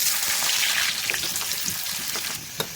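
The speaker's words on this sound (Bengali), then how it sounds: "এই বাগার দিয়ে দিলাম পেঁয়াজ দিয়ে" Onion tempering (bagar) hitting hot oil in Bengali home cooking, a steady loud hissing sizzle that fades slightly, with a few brief clinks of a utensil near the end.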